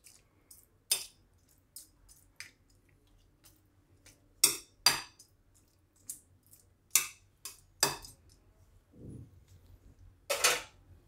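A spoon clinks and scrapes against a bowl while curd rice is mixed, a scattered run of sharp taps and soft scraping with quiet gaps between them.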